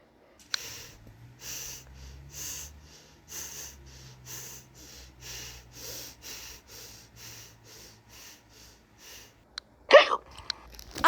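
A person hiccups over and over in a steady rhythm, close and fairly soft, ending with a louder sharp burst of noise.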